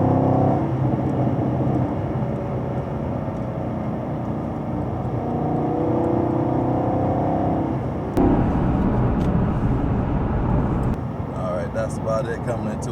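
A 2020 Camaro SS 1LE pulls hard in fourth gear on the road, its engine note a steady rising drone heard from inside the cabin, with someone talking over it throughout.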